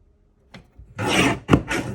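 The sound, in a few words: trimming paper card kit with a trimmer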